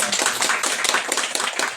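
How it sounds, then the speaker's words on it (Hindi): A congregation claps after a sermon in a church service: brisk, overlapping handclaps from a small group, fairly close and steady for a couple of seconds with no voices. "आमीन, ताली बजा सकते हैं।"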